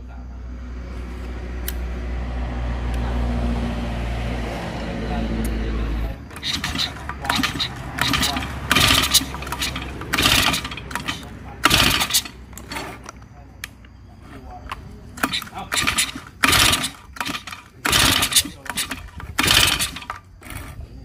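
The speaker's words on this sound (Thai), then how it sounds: "ไม่ติดครับอย่างนี้ต้องมาถอดคาบูออกมาดูก่อนครับ" A small engine cranks over and over without catching, each pull giving a short burst of clatter between pauses, after a steady low engine-like hum at the start; carburetor trouble is the stated fault.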